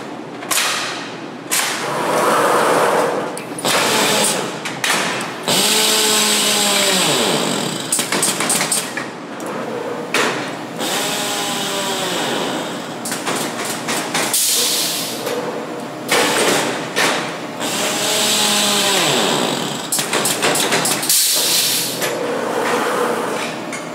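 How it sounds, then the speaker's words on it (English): Clamp carrier machine running in a cutting board workshop, a big wheel-like glue press for end grain butcher block, with repeated loud thumps, whip-like snaps and mechanical whirring throughout, along with rising and falling tonal whines. "This machine over here, which is a clamper."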